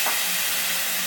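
Pabda fish fries in hot oil with a steady, close, broadband hiss and sizzle that holds unbroken throughout.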